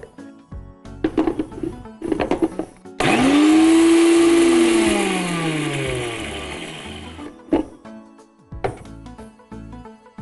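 A mixer grinder roars into action, dry-crushing two or three dried red chillies into a coarse powder for sambhar. It runs loud for about two seconds, then winds down with falling pitch, with kitchen clatter before and after.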